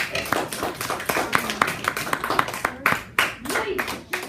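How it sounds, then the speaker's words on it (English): Scattered light hand clapping from an audience, a polite golf clap with irregular soft claps overlapping under background noise. "And let's give them another golf clap, please."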